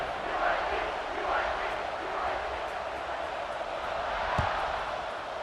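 A football stadium crowd just before kickoff, making a steady, broad roar of cheering that holds through the whole stretch, with a commentator's voice running over it.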